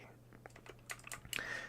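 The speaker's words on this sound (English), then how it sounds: "So, unfortunately, I also have a really loud keyboard" A loud computer keyboard is typed on in quick, uneven keystrokes during a Minecraft-style ASMR session, close and fairly soft, with a brief high whine near the end.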